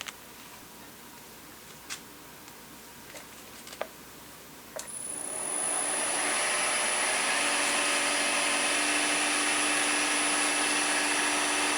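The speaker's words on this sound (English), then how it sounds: "I'm going to use my roughing gouge to turn this into a cylinder" A few sharp clicks and taps come first, then a wood lathe with a spindle blank and a roughing gouge starts up. It settles into a loud, steady whirring hum with a high whine, close and continuous, with no talk.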